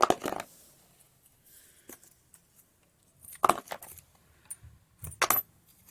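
Coins drop into a homemade piggy bank shaped like an MK14 gun. A few separate metallic clinks and rattles come in short bursts, with quiet pauses between them.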